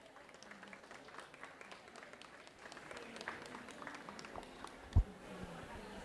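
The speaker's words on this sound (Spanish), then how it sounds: "También un aplauso, por favor." An audience applauds at a Latin American book presentation, with quiet, scattered clapping that swells slightly partway through, plus one sharp loud knock near the end.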